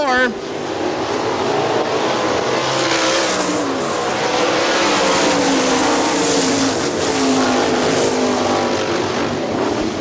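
410 sprint cars roaring around Hartford Speedway Park in Michigan, a loud continuous engine howl with shifting pitch as the pack races through the turns, with a commentator talking over it.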